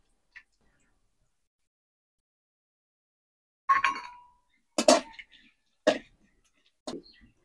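Cardamom, cinnamon and nigella seeds are stirred in oil in a pan. A few sharp, isolated clinks of a utensil against the pan ring out over near silence, spaced about a second apart.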